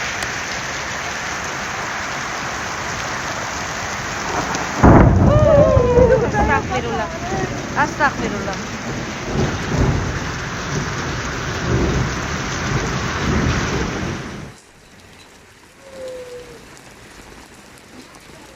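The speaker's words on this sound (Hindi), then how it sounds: "बंजाला में तो तेज़ बारिश हो गई है, झालाबारी भी हो गई और फिर से अब स्टार्ट हो रही है।" Heavy rain pours steadily during a thunderstorm in Islamabad, loud and close, with thunder rumbling through it and a person speaking briefly before the downpour suddenly drops away near the end.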